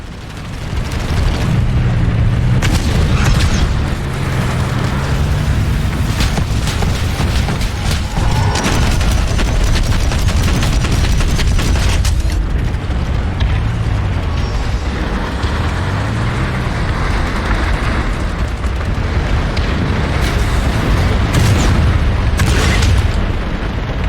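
Prowler tank cannon fire in the Planetside 2 video game sounds as heavy booming blasts over a dense, continuous rumble of engine and battle noise, loud and close, with no speech.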